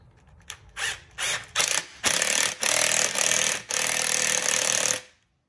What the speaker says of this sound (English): now we're going to take our 8 millimeter socket and tighten this clamp